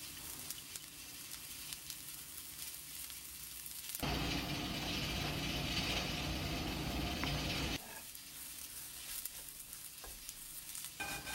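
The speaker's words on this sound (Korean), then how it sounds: "요거를 볶으면서 약간 튀기듯이 하면서 양념을 살짝 해줄게요." Unseasoned fried tofu pouches stir-fry in a pan, with a loud, bright sizzle that bursts in for several seconds in the middle and then drops back to quieter scraping and handling, with no talking.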